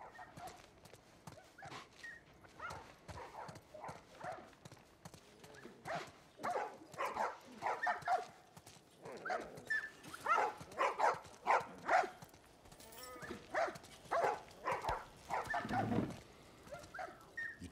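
A dog barks and yelps in irregular bursts amid thumping, clattering sounds, fairly quiet overall, in the video game The Last of Us Part I.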